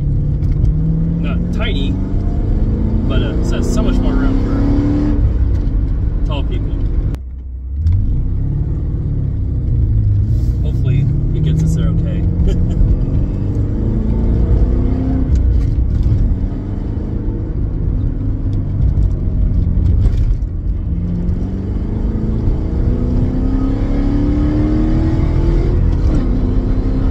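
A 1986 Porsche 928 on the move, its engine rumbling steadily with rising revs and whir throughout, heard close and loud beneath continuous talking.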